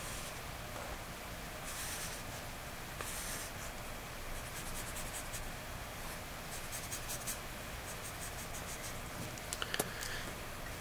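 Continuous scratchy marker or pen strokes drawing algebra tiles by hand on paper or a board, steady and close, with short bursts and a few sharp taps near the end, no speech.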